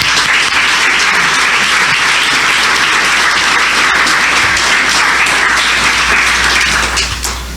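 An audience at a lecture for a Latin American chair gives sustained, dense applause that holds at full strength for several seconds before easing slightly at the end.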